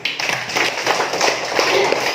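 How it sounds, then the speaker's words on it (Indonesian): A classroom of students claps hands in a quick scattered patter for a couple of seconds, close and fairly loud, with a faint voice underneath. "Tepuk tangan."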